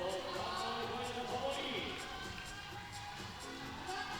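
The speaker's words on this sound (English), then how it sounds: "Getting a lot of encouragement for the local crowd now." A local crowd at the 2019 IFSC Lead World Cup finals in Inzai cheers and shouts encouragement to a climber, a steady far-off roar of voices under a commentator's talk.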